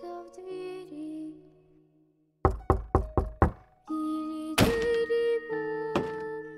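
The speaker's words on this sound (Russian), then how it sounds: "кто-то ходит за окном и стучится в двери" Several sharp, heavy knocks land on a door in quick succession, a rhythmic series of thuds set within eerie musical tones and a song.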